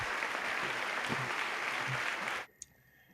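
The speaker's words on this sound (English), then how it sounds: "Hey, round of applause, man." Applause greeting a guest on a talk show, a dense steady wash of clapping that cuts off abruptly near the end, followed by a single sharp click.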